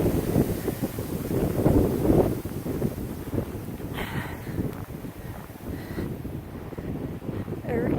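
Wind from a January snow storm blowing steadily across the microphone in gusty rumbling waves, while someone talks throughout.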